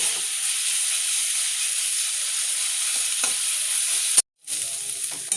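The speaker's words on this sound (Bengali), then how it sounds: "তো বন্ধুরা আমি এটা ভালোভাবে ভেজে নিই।" Potatoes frying in a pan for a drumstick-flower malai curry: a continuous, even, close sizzle with a faint stirring scrape, briefly cut by a short dropout near the end.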